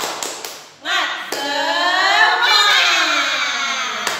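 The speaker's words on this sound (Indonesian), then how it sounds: "Tepuk semangat." Teacher leading the rhythmic clapping chant "tepuk semangat" for children learning at home, sharp claps opening into a sustained sung chant voice, close and clear.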